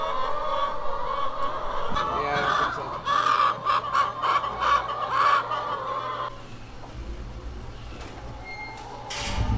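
Farm chickens cluck and squawk in a busy, overlapping chorus inside a barn with nesting boxes, loud and near, with the calls thinning out toward the end.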